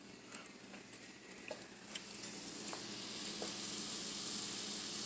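Sauteed onion, garlic and culantro sizzle quietly in a pan, a steady soft hiss that gradually builds, with occasional light ticks and pops.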